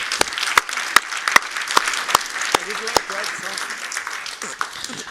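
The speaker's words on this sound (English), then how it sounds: "give a big round of applause to these brilliant panelists" An audience at a democracy and rule of law symposium in Stockholm claps for a panel, with scattered loud individual claps over softer applause, while voices talk over it.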